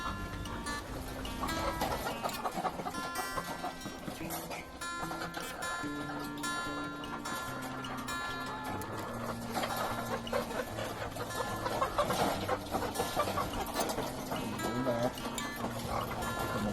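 A flock of ready-to-lay chickens clucking on a farm, many overlapping clucks and calls forming a steady, busy chorus throughout.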